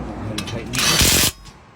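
A power tool whirs briefly while mount bolts are tightened on the front brake caliper of a 2014 Ford Focus, a close buzzing burst that stops abruptly, with talk around it.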